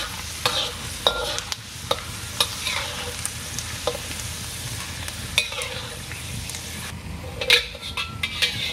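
Peanuts fry in hot oil in a pan while being stirred, giving a steady close sizzle broken by repeated scraping strokes and light metallic clinks of a utensil against the pan.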